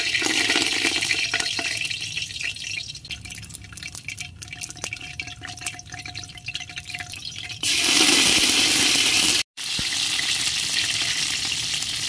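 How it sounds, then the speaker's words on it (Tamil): Mustard seeds are dropped into hot oil for tempering a Tamil goat head curry, and they set off a steady crackling sizzle. It turns into a louder, brighter frying hiss near the end, with a brief cutout. "எண்ணெய் காஞ்சிருச்சு. தாளிப்புக்கு கடுகு போட்டுக்கலாம்."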